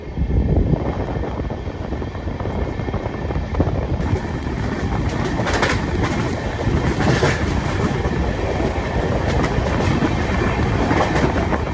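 An Amrit Bharat Express train rolls through Annavaram station without stopping, a loud, continuous rumble and clatter of wheels, even in level throughout.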